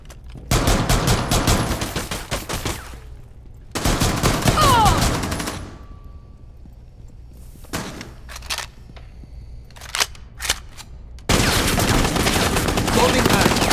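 Automatic gunfire in Rainbow Six Siege Mobile comes in loud, dense bursts of rapid shots, broken by short quiet gaps and a few single pops, with the long final burst ending the sequence.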